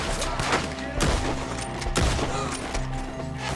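Gunfire in Red Dead Redemption 2 during a shootout with enemies up in trees, a dense fusillade of repeated shots in irregular bursts with two heavier booms, continuous and loud throughout the clip.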